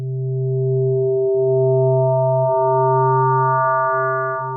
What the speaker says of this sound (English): let's just listen to wavefolding